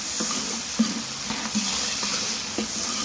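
A kilogram of ghee heats in a large pot for degi-style chicken pulao, giving a steady soft sizzle with occasional light metallic clinks and stirring taps.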